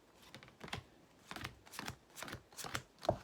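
Tarot cards are shuffled close up in a quiet room, giving repeated soft riffling bursts in a steady rhythm of about six or seven strokes.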